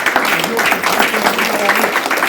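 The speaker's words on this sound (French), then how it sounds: "ils peuvent s'élever pour qu'on les acclame très très très fort" Applause for the Luxembourg delegation at an installation ceremony of a Netherlands sub-section, a steady crowd clapping loudly and evenly throughout, with voices underneath.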